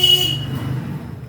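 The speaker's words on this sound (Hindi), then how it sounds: "बाइक जाने के साथ साथ जो हॉर्न की आवाज़ आई" A motorbike passing close by with a short horn toot at the start, the engine noise fading quickly as it goes.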